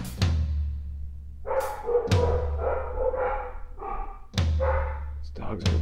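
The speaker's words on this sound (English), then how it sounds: "These dogs are relentless." Several dogs bark indoors in sharp, loud bursts, some overlapping, with thumps and pauses between volleys over a low steady hum.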